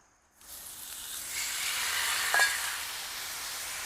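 Oil hitting a preheated Blackstone griddle bursts into a soft, steady sizzle that swells and holds, with a small clink partway through.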